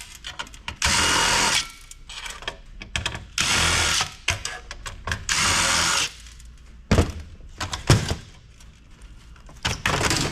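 A power screwdriver backs screws out of a server being scrapped for e-waste: three sustained whirring runs of about a second each, close and loud, separated by clicks and handling clatter, then shorter spins and metal knocks.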